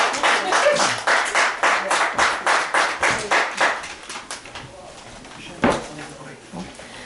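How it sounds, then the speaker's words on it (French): An audience at a poetry collection launch claps in a brisk rhythmic beat that fades after a few seconds, leaving scattered claps, a sharp knock and light voices. "On l'applaudit"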